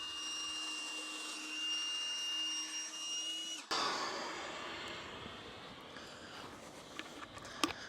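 A pump draws air out of a Truekit Discovery 400 inflatable boat with a steady, close whining hum that cuts off abruptly, followed by quieter rustling and a few small knocks.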